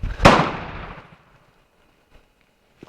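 A single sharp gunshot from an M16A1-style AR-15 rifle fitted with a scope, fired at a target, close and loud with a decaying echo tail, followed by quiet and faint small knocks.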